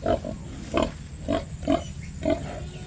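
Pigs on a farm eating napier grass, with repeated short grunts and snuffling chomps in uneven bursts close to the listener, each lasting a fraction of a second over a low steady background.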